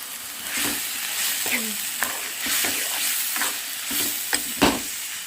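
Raw prawn pieces, washed with turmeric and salt, fry with mixed masala in a pan. They sizzle steadily at close range while a utensil stirs them, giving several distinct scrapes and clacks against the pan.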